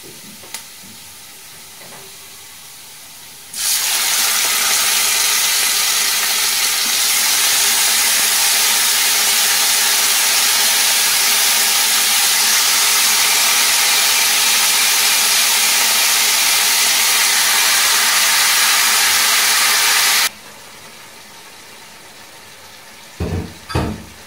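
Yogurt-and-lemon marinated chicken goes into a hot frying pan and erupts in a loud, steady sizzle and hiss that lasts well over fifteen seconds before dropping back to a quieter pan, with a few clanks at the end.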